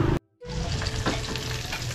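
Food frying in a pan on a home cooking setup, a steady close hiss and crackle of sizzling oil that cuts out briefly near the start and then returns strongly and continuously, with no talk.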